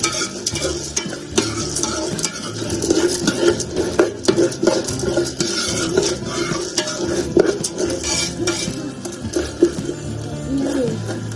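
Popcorn being stirred with butterscotch flavoring: a dense, continuous rustle of kernels tossed in a pot, with frequent scraping and clinks of the utensil against the metal and a faint sizzle beneath.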